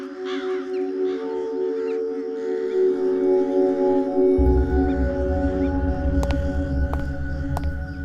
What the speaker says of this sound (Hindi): ये कौवे यहाँ पर ऐसे ही रहते हैं क्या? इनके काँव ने मेरा सिर दुखा दिया है।